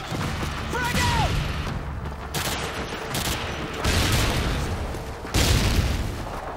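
Explosions and gunfire in Modern Warfare 2 multiplayer, a dense mix of repeated booms and shot bursts over continuous battle noise, with faint voice callouts.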